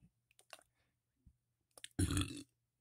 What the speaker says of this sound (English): That was a sour burp, dude.